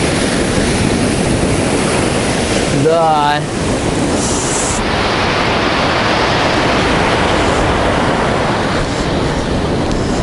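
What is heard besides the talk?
sea waves on Chkalovsky beach, Adler, Sochi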